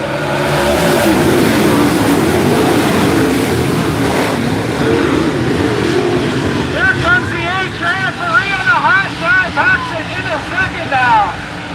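Super late model race cars accelerating at Latrobe Speedway on a green flag restart, a loud sustained roar of engines swelling and rising in pitch as the pack pulls away, with a commentator talking over it.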